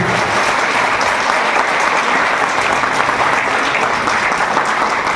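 An audience at an achievers' celebration event claps loudly and continuously, a dense unbroken wash of many hands applauding throughout with no pauses.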